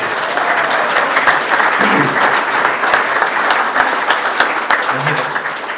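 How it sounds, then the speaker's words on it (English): An audience at a golf club function applauds in a steady, dense wash of clapping that holds evenly at moderate loudness throughout, with a few voices faintly underneath. "Give him a clap."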